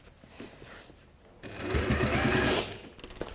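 A sewing machine stitching fabric down in place, starting with faint handling noises, then a loud, close, fast-running whir for about a second before slowing and stopping.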